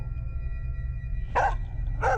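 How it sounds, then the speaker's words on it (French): A dog named Loki barks at a stranger, two sharp barks near the end after a low humming background. "Il a couru derrière moi et a commencé à aboyer après lui."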